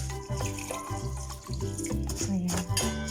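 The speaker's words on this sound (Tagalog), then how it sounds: "So, lalagyan na natin ng tubig." Water is poured into a rice mix in a pot for chicken mandi, a close, gurgling stream with uneven splashes and bubbling pulses that runs throughout.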